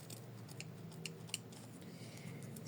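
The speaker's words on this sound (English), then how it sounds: "you have to trim each layer of felt in the place of the loop." Scissors trimming layers of felt for a machine-embroidered bunny, several short, crisp snips at irregular intervals, close but soft over a faint room hum.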